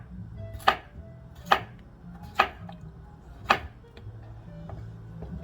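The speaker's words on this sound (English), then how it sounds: "we're gonna slice them about 1/8 of an inch" A knife cutting peeled potatoes into thin slices on a board, four crisp, separate chops spaced roughly a second apart, close and clear over a quiet room with no voices.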